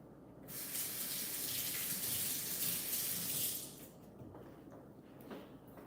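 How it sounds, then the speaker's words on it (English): Running tap water pours over hands at a kitchen sink while preparing meat for dinner, a loud steady gush that drops after a few seconds to softer splashing and dripping. "I'm gonna wash my hands again."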